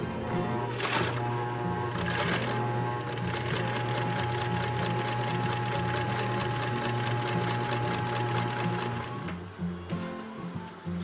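Sewing machine running in a steady, continuous stitching rhythm while rounding the corners of a prosthetic leg compression sleeve, loud and close, slowing and stopping near the end with no talk over it.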